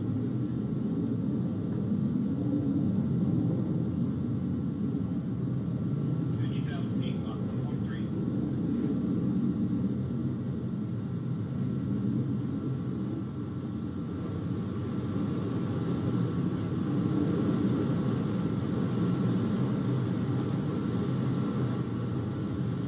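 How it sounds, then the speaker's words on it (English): A Blue Origin New Shepard rocket climbs during launch on its BE-3 engine, a steady, distant low roar and rumble that continues unbroken throughout. "Look at that clean burn on the BE-3 engine."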